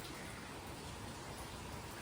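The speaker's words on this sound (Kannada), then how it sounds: "ಇನ್ನೂ ಮಳೆ ಬರ್ತಾನೆ ಇದೆ" Rain falls steadily outdoors among green plants, a continuous soft wash of patter heard faintly and evenly throughout, with no voices.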